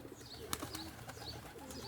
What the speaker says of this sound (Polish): Moje gołębie jak zwykle zamiast latać chodzą po ziemi